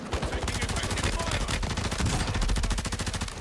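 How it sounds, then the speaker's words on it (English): Rapid gunfire in Warzone 2, with bursts of fast automatic shots ripping close and loud over a busy battlefield, nearly continuous for a few seconds. "Watch out, shooting from down low."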